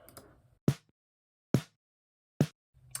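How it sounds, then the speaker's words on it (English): Snare drum captured from above by a top SM57 microphone, three sharp, crisp strikes spaced roughly evenly apart, with faint low background noise before the first hit and after the last. "I had a snare mic on the top of the snare,"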